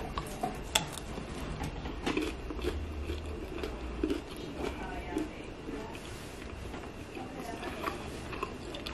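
Someone bites into a slightly overbaked homemade Auntie Anne's-style pretzel that is crunchy on the bottom. Close crisp crunches and chewing come in irregular bursts against a quiet room, with a few small clatters.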